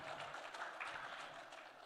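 A hall audience applauds as a speaker is welcomed to a tech conference stage, the clapping dense and steady but faint and distant throughout.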